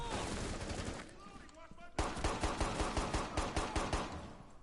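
Pistol fire in Rainbow Six Siege comes as a rapid string of sharp shots at a steady rhythm, loud and close, after a short pause in the shooting.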